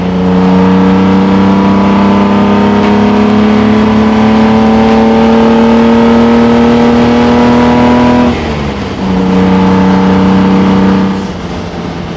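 A 1957 AC Ace Bristol accelerating along a farm road, heard from inside, its engine droning and climbing steadily in pitch, then a brief dip at a gear change before pulling again, loud and close.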